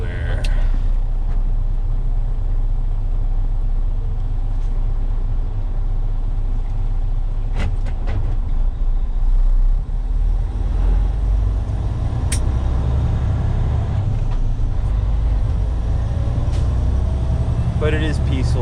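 Truck engine drone and road rumble while driving at night, a steady low roar with a few brief clicks and rattles, loud and continuous throughout.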